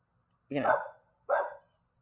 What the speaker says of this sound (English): The dog is with us tonight.